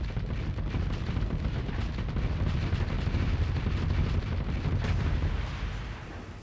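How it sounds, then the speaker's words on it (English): Sabot missile explosions in the space combat game Starsector, a dense continuous barrage of booms and blasts rumbling throughout at steady loudness, easing slightly at the end. "I'm gonna expedite this with a Sabo missile."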